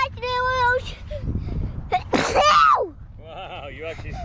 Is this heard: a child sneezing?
yes